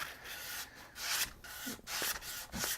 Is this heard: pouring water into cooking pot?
no